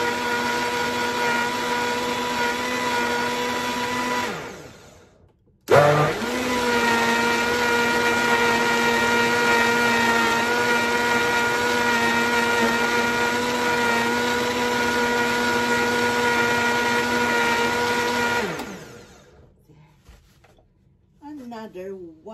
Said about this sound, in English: I'll blend it again.